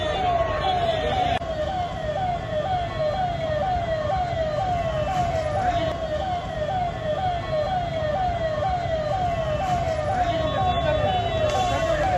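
Fire engine sirens wail at a large building fire in Ameerpet, a continuous rising and falling tone repeating steadily and loudly throughout, over a background of traffic rumble.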